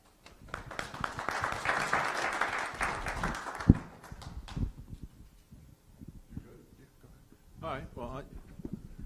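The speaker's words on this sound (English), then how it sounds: "And a special round of applause for our finance department." Applause from an audience at a county budget hearing, steady clapping that swells and then fades, followed by scattered voices and murmuring.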